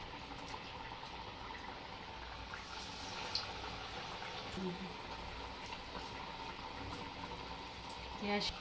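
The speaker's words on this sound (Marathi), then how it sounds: "आता बारीक गॅसवर चांगले शिजून द्यायचे, त्याला तळून द्यायचे" Dal vadas frying in oil on a low flame, giving a steady soft sizzle and bubbling that runs without a break, with a few faint clinks near the end.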